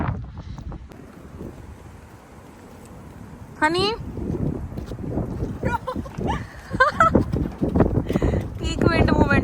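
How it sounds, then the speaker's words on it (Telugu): Strong wind gusting outdoors on a city street, buffeting the microphone in loud rumbling bursts that build toward the end, with a few brief voices and chirpy sounds mixed in. "Peak wind moment."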